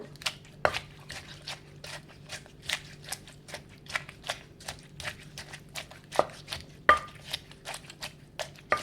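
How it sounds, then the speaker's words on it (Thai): Thai papaya salad with long beans, eggplant and tomato pounded and tossed in a mortar, a steady series of close, regular thuds and wet knocks, about two per second, with no talking. "แล้วก็โคลกโคลกคลุกเคล้านะคะ"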